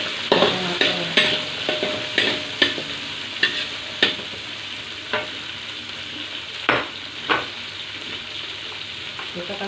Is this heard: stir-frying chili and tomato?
yes